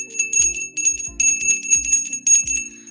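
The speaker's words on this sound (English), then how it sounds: "The bell still gets rang." A ringing bell for the US stock market opening, struck in repeated bursts of bright metallic clangs with a steady low hum underneath, loud and close, no talking.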